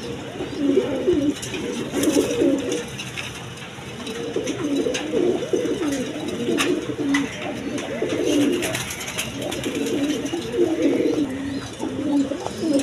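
Blazer pigeons coo repeatedly nearby, throaty rolling calls in regular bursts of a second or two over a steady background murmur.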